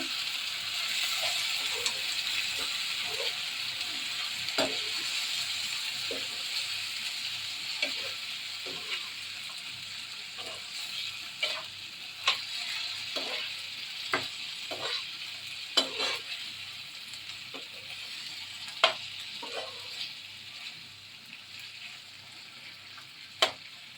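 Mutton sizzles steadily in a pan over a low flame, a soft constant frying hiss broken by scattered scrapes and clicks of a spoon stirring the meat.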